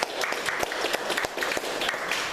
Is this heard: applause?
yes